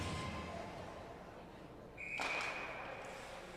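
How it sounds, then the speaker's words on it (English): A referee's whistle blasts once, clear and sustained, for about a second over the steady crowd noise of a junior varsity hockey game between the Warriors and the Blues. "Whistle sounds, and Gracie gets tossed out of the draw."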